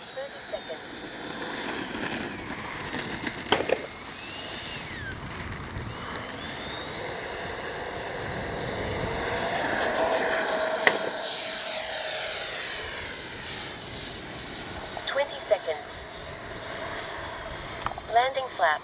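An FMS Avanti S 70mm RC jet makes a pass over a grass field, its ducted-fan whine rising and sweeping in pitch as it approaches, peaks loudly overhead and fades away, with some brief talk near the start and end.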